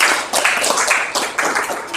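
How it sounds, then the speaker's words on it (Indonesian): A classroom of students claps for a presenting student group, a short burst of dense, fairly loud applause swelling in a few waves over about two seconds. "Tepuk tangan dulu buat Amira CS ya."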